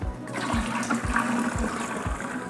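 Alkaline water at pH 9.5 pours from a measuring cup into a vase in a steady, close gush with faint rhythmic swells throughout.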